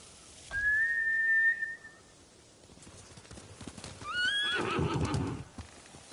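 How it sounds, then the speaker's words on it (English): Horses whinny in the video game Ghost of Tsushima: one long, clear neigh rings out, followed a couple of seconds later by a second, wavering whinny with hoof clatter beneath it, both fairly close and loud. "Bastards scared off the horses."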